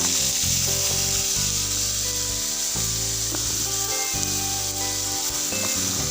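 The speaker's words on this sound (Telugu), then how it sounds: "కట్ చేసిన కొబ్బరి మువ్వులను అయితే ఇప్పుడు వేసుకుందామండి" Chopped coconut shoots hit a hot pan for a tribal-style tuber curry, producing a loud, dense sizzle that runs throughout with stirring and scraping, and some background music.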